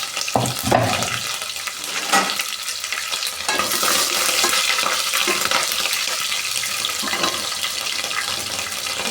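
Curry leaves drop into hot oil with garlic for a broken-wheat pongal, setting off a loud, continuous close sizzle with bursts of crackling and stirring.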